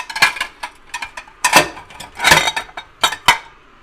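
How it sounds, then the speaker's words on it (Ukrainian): Deep ceramic plates clink and clatter against each other as they are taken out, in a series of sharp, close knocks and scrapes, with no voices. "Треба дістати мені три глибоких тарілки."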